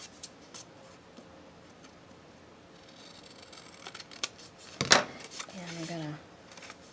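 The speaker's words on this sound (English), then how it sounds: "I'm going to cut down the middle." Scissors snip down the middle of a folded paper sheet to make junk journal tags, giving a few quiet, close crisp cuts, followed by soft paper handling and a brief spoken murmur near the end.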